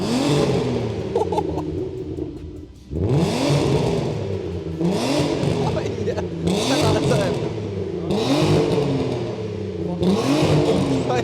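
An Audi TT with a cheap temporary exhaust revs repeatedly, several sharp climbing bursts that fall back to idle, loud and close with a rough, raspy tone.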